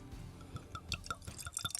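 Kentucky straight bourbon, a 2XO Gem of Kentucky single barrel, is poured into a glass, giving faint close trickles and small drips with light glassy clinks, without talk.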